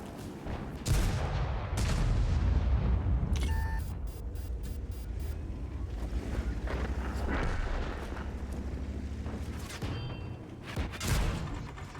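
Tank shells strike and glance off the hull armour of an M48A2 Räumpanzer in World of Tanks, heard as a string of loud, sharp metallic impacts and booming shots over a steady rumbling battle din, with no talking.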